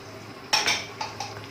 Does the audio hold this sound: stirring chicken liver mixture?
yes